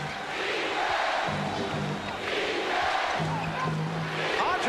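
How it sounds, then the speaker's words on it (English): An arena crowd at a 1991 NBA Finals game between the Bulls and the Lakers roars in swelling waves, with rhythmic chanting pulses, under a broadcast commentator's voice. "the crowd getting into it"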